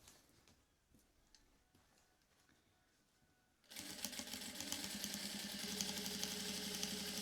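Sewing machine stitching a fabric bag, a few quiet handling ticks and clicks at first, then the motor starts abruptly into a fast, loud, steady whirring run of needle strokes.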